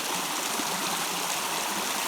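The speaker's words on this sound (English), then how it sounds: "I don't think there's much for fish in this creek." A small, shallow creek flows into a pool along a trail, a steady close trickling and burbling of running water with no voices over it.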